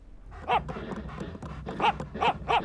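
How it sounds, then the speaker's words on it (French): A dog gives several short yips and whimpering barks, close by, in uneven bursts with soft panting between them. "j'aurais juré entendre mon chien"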